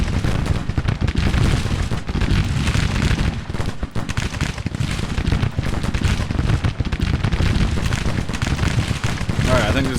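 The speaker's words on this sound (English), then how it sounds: "Now we got our guns firing." Artillery guns fire in Grand Tactician: the Civil War, with dense, rapid booms and rumbling blasts overlapping continuously at loud volume and no pause.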